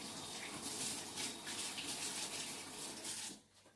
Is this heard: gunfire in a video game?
no